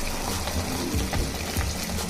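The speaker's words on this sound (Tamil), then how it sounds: "இந்த தண்ணியை கொஞ்சமா தண்ணி சேர்த்து அதையும் ஆட் பண்ணிக்கலாம்." Water is poured into a pan for garlic chutney in a short, splashing stream, close by, with a gurgling, uneven flow for about two seconds.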